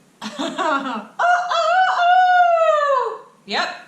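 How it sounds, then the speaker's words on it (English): A rooster crows loud and close, a long drawn-out call rising and falling, with a brief second call starting just after. "now we have to deal with freaking roosters"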